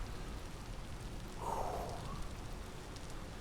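Rain falling in the Vintage Story game, a steady faint hiss of drops that swells slightly midway, with no voices over it.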